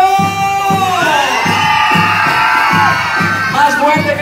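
Children and parents shouting at a party, with sustained high excited yells and whoops from a crowd over a pulsing rhythmic music beat.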